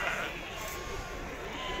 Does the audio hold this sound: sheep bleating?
yes